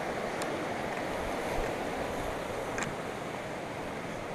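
A river flowing beside a campsite in Idaho, a steady broadband rushing wash of water heard alone and continuously at moderate distance, with a couple of faint brief ticks.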